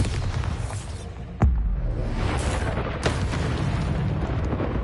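Bombarda spell explosion in the Hogwarts Legacy video game: one sharp, loud blast with a deep low rumble, then a smaller burst a moment later, over constant busy game noise.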